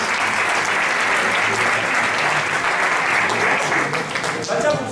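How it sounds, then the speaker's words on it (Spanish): Audience applause fills the whole stretch, a dense steady clapping from a crowd at a live afternoon magic show, loud and sustained throughout without any talk over it. "li fem un fort aplaudiment a la tarda"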